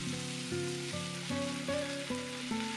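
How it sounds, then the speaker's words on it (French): Slices of marinated pork fry in a couple of spoonfuls of oil in a pan over medium heat, a steady close sizzle running under melodic background music. "dans une poêle à feu moyen, 2 cuillères à soupe d'huile, déposez les tranches de viande et la cuisson sera de 5 minutes de chaque côté"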